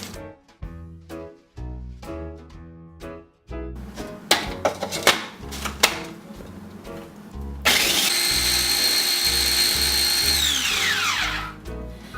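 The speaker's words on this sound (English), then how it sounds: "Place 15 Oreos into your food processor." A food processor crushes regular Oreo cookies in short pulsing bursts at first, then runs in a loud continuous whine that winds down near the end, with a rhythmic chopping texture throughout.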